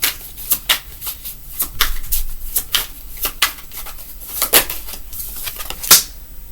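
A deck of tarot cards is shuffled close by, giving a rapid series of crisp riffling flutters and soft slaps in a steady, repeating rhythm, with no voice.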